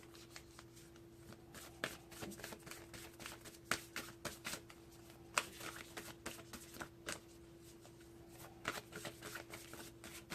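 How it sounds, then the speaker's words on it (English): Whispers of Love oracle cards being shuffled by hand, a steady stream of close, dry card riffles and flicks with a low steady hum running underneath. "I'm going to pull out one Whispers of Love card for the adults."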